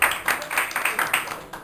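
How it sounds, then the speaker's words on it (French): Scattered audience clapping at a ceremony in Morocco, a small crowd applauding in a steady, moderately loud rhythm of separate claps for a short stretch. "que je vous demande d'applaudir, s'il vous plaît"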